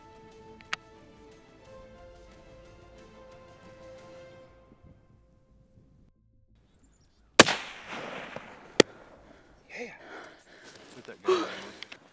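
A single sharp rifle shot cracks out at a buck during a deer hunt near a cedar tree, loud and sudden after a quiet stretch, followed by a second sharp report and low rustling.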